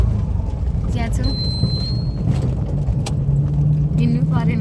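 Riding inside a tempo auto vehicle: a loud, steady engine drone with rattling and jangling from the cabin as it moves along the road.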